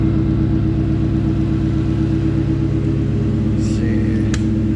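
A freshly restored car's engine runs close by, a loud, steady rumble that holds an even note throughout with no clear revving, and no voices are heard.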